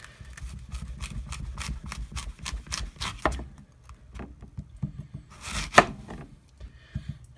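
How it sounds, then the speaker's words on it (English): A knife cutting up an apple, a steady run of crisp, close chopping taps, followed by a pause and a louder crunching slice near the end, with no talk. "I'm going to cut up an apple"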